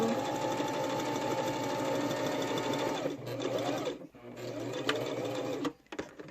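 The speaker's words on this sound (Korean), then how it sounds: "고리를 달아서 쓰는 부분이라서 2번 정도 튼튼하게 박아줍니다" Sewing machine stitching a handmade fabric wallet-pouch, a loud rapid needle clatter running steadily, pausing briefly, then resuming with a short burst before stopping.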